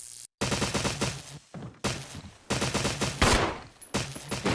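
Rapid automatic gunfire in the video game Resident Evil, coming as several loud close bursts broken by short silent gaps, with one sharper heavy blast near the end.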